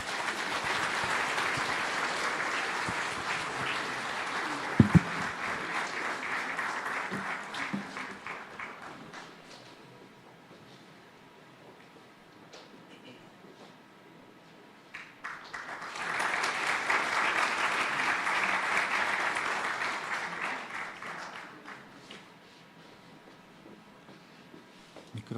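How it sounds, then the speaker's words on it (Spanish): A church congregation at a Sunday service in La Paz breaks into loud, sustained applause that fades to a quiet lull, then swells into a second strong round of clapping before tapering off again. "Vamos a recibir con fuertes aplausos, por favor"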